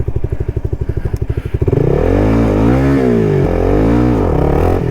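A CFMOTO 300SS motorcycle engine pulses at idle, then revs sharply and holds a loud rising and falling roar during a clutch wheelie attempt, close and without talking.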